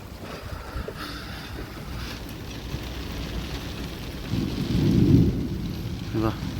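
Rain falls steadily during a storm in Mumbai while a low rumble of thunder swells and fades, with a brief creak near the end.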